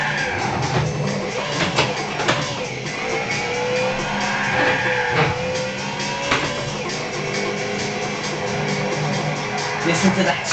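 A BMW M3 sports car engine revs and drives, its roar rising and falling with gear changes and faint tire noise, heard from inside with some background music.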